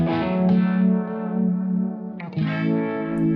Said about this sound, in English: that is the Univibe before overdrive.